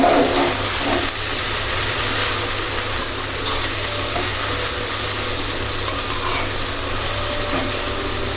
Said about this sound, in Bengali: এখন আমি ভালো করে একটু নাড়া দিয়ে দিই।